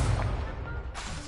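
Incendio fire spell cast in Hogwarts Legacy, a short booming whoosh-burst of flame that rumbles loudly and then tails off within about a second.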